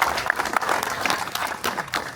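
A small group applauds at a Strokers club meeting in Beverly, Massachusetts, a brief burst of close, uneven clapping that keeps up at moderate volume.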